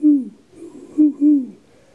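A human voice imitates an owl, giving four short, low hoots in quick succession, close and clear.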